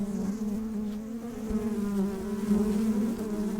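Agitated honey bees swarm around a hive opened without smoke, producing a loud, steady, dense buzzing drone that fills the whole stretch with no talk.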